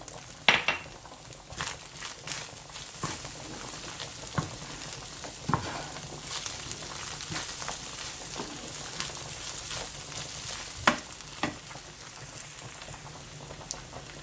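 Minced meat frying in a pan with salt, black pepper and chili flakes, a dense, close crackling sizzle with repeated sharp spatula stirs and scrapes throughout, no talking.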